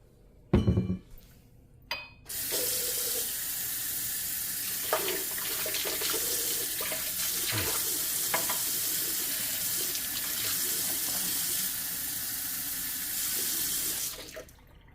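Kitchen tap water runs steadily into a measuring vessel for waffle batter, a loud continuous hiss after a few clinks of glass and dishes, then stopping at the end.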